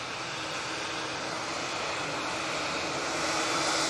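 A TUI airliner at Manchester Airport spools up for takeoff on a positioning flight to Glasgow, its engines a broad, steady roar that grows slightly louder toward the end, with no voices.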